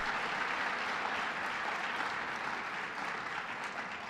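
Steady applause from a room full of people, a dense even patter of clapping that continues throughout without voices.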